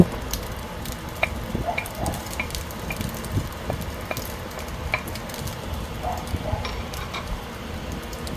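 Egg and ham fry steadily in a pan with a constant crackling sizzle, broken by light scraping stirs and small taps of a utensil throughout.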